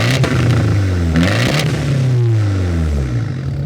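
A Fiat Abarth 124 Spider with a 170-horsepower engine revs hard and accelerates, its loud, close exhaust note rising and falling through a couple of sweeping pulls with no talk over it.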